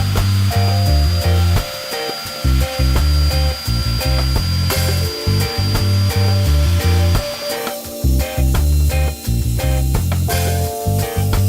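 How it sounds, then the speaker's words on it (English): A loud power router whines in repeated bursts while cutting a rectangular slot in walnut for a workbench leg vise, cutting off and restarting several times with brief pauses between passes. "the drill bit holes need to be tidied up with a router"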